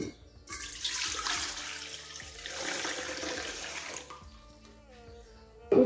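Lukewarm water pours from a tap into a bowl for bread dough, a loud rushing stream that starts abruptly, runs for several seconds with shifting pitch and then stops.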